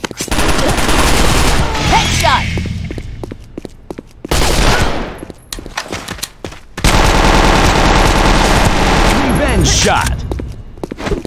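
Dense bursts of automatic gunfire from the Sudden Attack shooter, in a school map, come in loud rapid volleys. They are split by short pauses, with game voices sounding between them.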